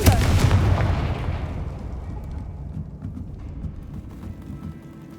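A Confringo fire spell blast in Hogwarts Legacy lands with a loud, booming burst at the start, then a rumbling, crackling decay that fades over several seconds.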